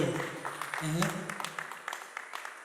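Applause greeting a guest at a film launch event, a dense clatter of many hands rising under an announcer's voice and then thinning into scattered claps.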